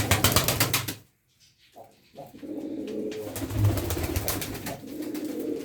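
Pigeons coo in low, rolling murmurs nearby, a soft continuous chorus that drops out briefly after a burst of fluttering near the start.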